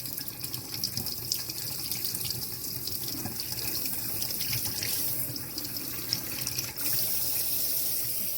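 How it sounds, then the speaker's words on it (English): Tap water runs steadily into a sink while an eggplant is rinsed under it, a continuous close splashing rush with slight shifts as the vegetable is turned. "We're going to wash our eggplant."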